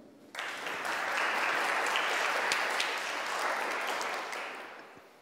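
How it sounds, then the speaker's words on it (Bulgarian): Applause breaks out suddenly from a tech-conference audience for a speaker presenting Uber's TChannel RPC, holding a full, steady roar of clapping before tapering off near the end, with no talking. "Аплодисменти."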